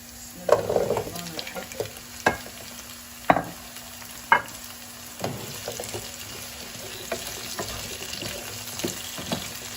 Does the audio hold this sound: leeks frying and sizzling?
yes